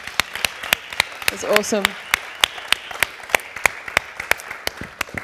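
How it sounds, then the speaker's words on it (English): Applause at a hackathon awards event in Paris, a few distinct, evenly spaced claps close to the microphone over a light background of clapping, with a person speaking briefly partway through. "Big round of applause, everybody."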